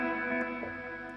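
A pedal steel guitar runs through analog delay and reverb pedals, giving one sustained, shimmering chord with echoing repeats that holds evenly and fairly quietly throughout.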